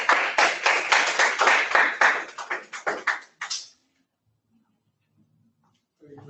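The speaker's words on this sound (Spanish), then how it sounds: "le damos un fuerte aplauso" A burst of audience applause after a neonatal hypoglycemia science talk, many hands clapping at once for about three and a half seconds, then fading abruptly to silence.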